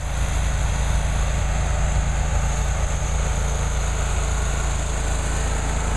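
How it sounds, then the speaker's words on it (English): Small riding lawn mower engine running at a steady high-pitched drone, close and continuous with no pauses, and no talking. "You gotta turn on your mower."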